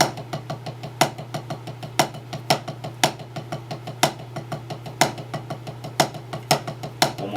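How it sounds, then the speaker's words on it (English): A drum sextuplet changeup moves from paradiddle-diddles into singles as a steady, fast stream of quiet strokes, with regular louder accents about once a second, played close and alone at moderate volume. "this is the sextuplet changeup"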